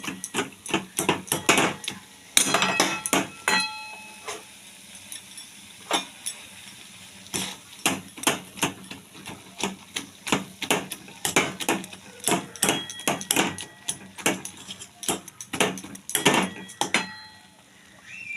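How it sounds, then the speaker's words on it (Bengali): A masher pounds boiled-down tomatoes in a pot, a long run of irregular knocking and clinking thuds against the metal, some quick bursts and some spaced apart, fairly close and clear. "এবার আমি এটাকে একটু ন্যাশ করে দিচ্ছি, ন্যাশা দিয়ে"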